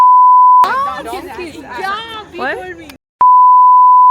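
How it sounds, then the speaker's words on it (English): A steady high censor beep sounds, cuts out for a burst of excited chatter, then returns as the same flat tone. "Okay, I'll beep it."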